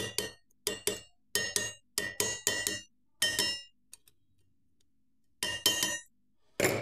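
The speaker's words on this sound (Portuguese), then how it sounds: "Eu vou tentar bater na tampinha também" A hammer taps gently on a stuck motor's bearing cap in short metallic strikes, mostly in quick pairs with pauses between, close and clear without talk.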